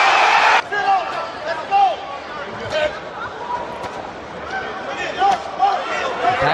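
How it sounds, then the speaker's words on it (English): Arena crowd at a Derek Chisora versus Malik Scott boxing match, a steady roar of cheering and chatter that swells in short bursts, with a louder burst at the very start. "Crowd getting into it now"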